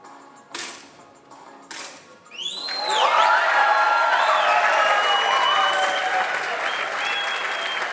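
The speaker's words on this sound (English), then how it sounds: "Another strong shot by Patil, followed by a big clap from the audience" Audience applause at a men's 10 m air rifle shooting World Cup final in Bhopal, India, swelling into a loud, sustained clap after two short bursts, with whistles and cheers rising over it and no talk.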